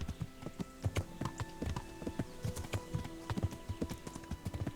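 Horse hooves clip-clop in a steady, irregular trot in the video game Kingdom Come: Deliverance, fairly close and moderately loud, with a faint ambient hum underneath and no talking.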